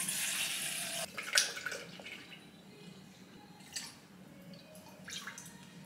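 Liquid, coconut milk and water, is poured into a bowl in a quiet kitchen, a few short splashy trickles and drips spread over several seconds.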